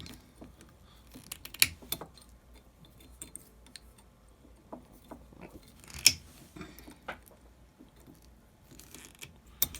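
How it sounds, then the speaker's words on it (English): Wire cutters snip through the metal wires of a homemade Freddy Krueger glove, giving a few sharp, isolated clicks spaced apart, with quieter handling and fiddling noises in between and no speech. "you're going to snip all these wires."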